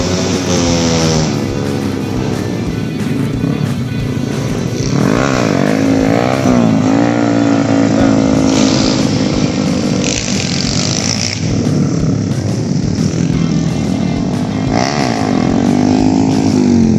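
A Yamaha R15 sport motorcycle engine revs repeatedly up and down close by, whining pitch rising and falling in rapid surges.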